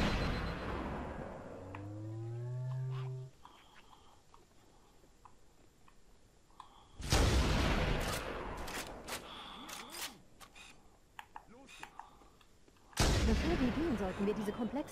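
Gunfire in Halo: Combat Evolved Anniversary, heard as sharp, loud bursts of shots and blasts separated by quieter stretches, with a descending tonal sweep at the start.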